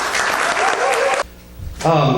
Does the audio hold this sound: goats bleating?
no